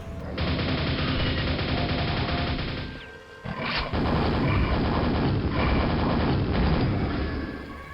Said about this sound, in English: as well as the two nail guns, which come in both standard or super variety